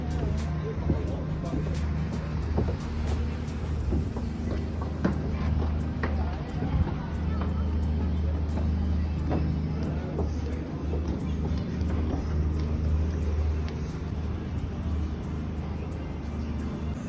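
A river cruise boat in Paris at night, a steady low engine hum and water noise under a crowd of passengers chatting, with occasional clatters and a person speaking nearby.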